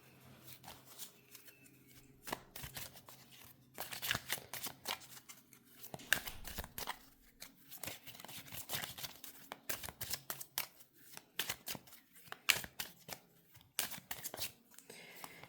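Oracle cards riffle and shuffle in repeated crisp bursts of papery flicks and slaps, close and fairly quiet, with no talking.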